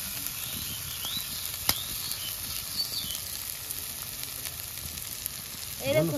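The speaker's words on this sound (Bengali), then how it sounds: "মশলাটা ভালো করে কষিয়ে নিয়েছি।" Masala spice paste for fish kalia, made with sugar, frying steadily in a pan with a soft continuous sizzle, close and moderate in level, with a brief louder stir near the end.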